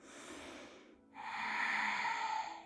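A slow yoga breath is drawn in and then let out, soft and close, with a brief pause between the two long airy strokes and no voices.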